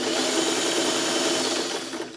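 A sewing machine runs in a steady, continuous whir while stitching fabric crumbs, close and fairly loud, easing off slightly near the end.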